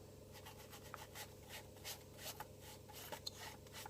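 Whitewash paint rubbed off a model tank with water, heard as faint, close, repeated soft scrubbing strokes in a steady rhythm.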